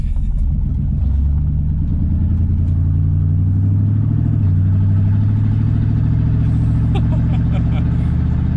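A 5.7 V8 truck with a true dual muffler delete accelerates, its exhaust leaving through cut pipes in a deep, steady, rising rumble that is loud and close, while someone talks quietly over it.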